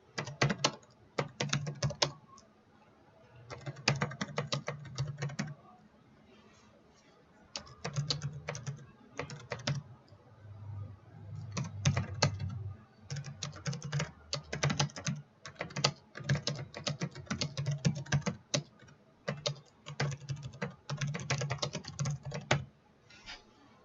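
Typing on a computer keyboard in Microsoft Word, steady bursts of fast key clicks separated by short pauses, close and clear with no voices.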